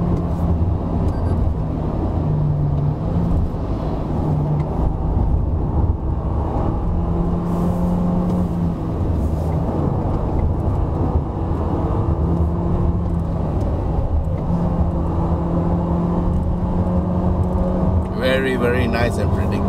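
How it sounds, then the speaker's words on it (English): A Toyota Corolla Cross SUV takes mountain corners on the road up to Genting. A steady engine drone and road and tyre noise run underneath continuous talking from inside the cabin. "now that the traffic situation is a bit better, we are actually able to take the corners a bit faster"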